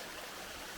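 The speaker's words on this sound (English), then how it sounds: "Look at the waterfall up there." A continuous broadband rush from a waterfall at Butze Rapids on a West Coast hiking trail. It is faint and steady, with no voices over it.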